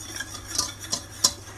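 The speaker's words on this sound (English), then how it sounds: "Then when that's hot, in goes the flour. And stir." Flour is stirred into hot oil in a pan for a butternut squash lasagna, with three or four short scraping strokes of a utensil against the pan, close and fairly quiet, with no voices.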